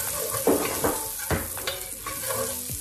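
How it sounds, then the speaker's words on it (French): Chopped shallots hit a hot pan for a guinea fowl with pears and vanilla, sizzling loudly with a few scraping stirs and clatters close by. "là maintenant, je vais venir rajouter mes échalotes"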